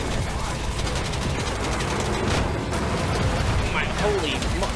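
Explosions and gunfire-like bursts in a racing video game, arriving as dense, loud repeated blasts over a constant roar of car engines, with no voices in the clip.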